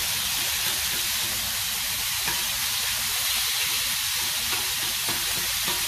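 Ground hamburger meat fries on a Blackstone griddle with a steady, loud sizzle and hiss that runs without pause and with no talking.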